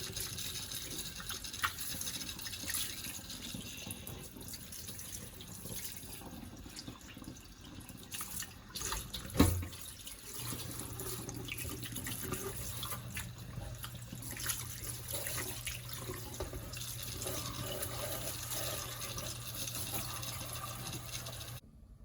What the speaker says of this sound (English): So here I have thoroughly washed my beef skirts.